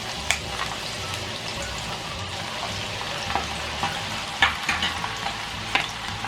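Nimko snack mix fries in bubbling oil in a home kitchen, giving a steady close sizzle with scattered pops and crackles and a few scraping sounds from stirring.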